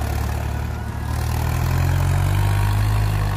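A 4x4 tractor engine runs as the tractor makes a tight turn on a field, a loud, close, steady low rumble that rises slightly in the second half, with no talking.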